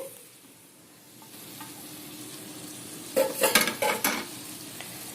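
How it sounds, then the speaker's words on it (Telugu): Egg and prawn curry sizzling in a pan, a soft steady sizzle that gives way to a burst of loud scraping and clattering as a spoon stirs it against the pan, close with no talking. "మగ్గుతుందండి కూర."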